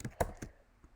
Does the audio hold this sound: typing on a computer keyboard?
yes